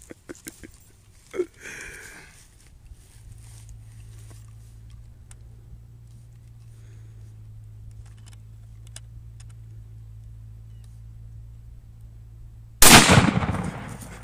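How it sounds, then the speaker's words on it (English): A 7mm rifle fires a single loud, sharp shot near the end, after a long quiet stretch with only a low steady hum and a few small handling clicks. "Oh, you gotta stand up to shoot this one?"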